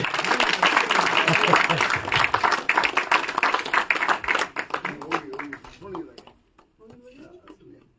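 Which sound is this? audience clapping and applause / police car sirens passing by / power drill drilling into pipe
audience clapping and applause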